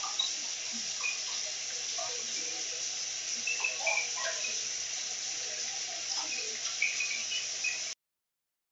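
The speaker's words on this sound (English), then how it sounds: "let me test out that detachable sprayer" A detachable shower-head sprayer, newly installed, hisses with a steady spray of water that runs evenly for about eight seconds before cutting off abruptly.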